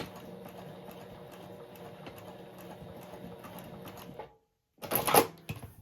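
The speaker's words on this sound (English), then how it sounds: "I'm going to put these in the machine and" A sewing machine runs back and forth over a small fabric hem, its even mechanical whirr and ticking lasting about four seconds before a short pause and a brief, sharper clatter.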